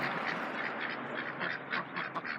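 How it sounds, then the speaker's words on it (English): Resident ducks at a pond quacking steadily and fairly close, a continuous overlapping chorus of calls with no talk. "Look at that, they got resident ducks."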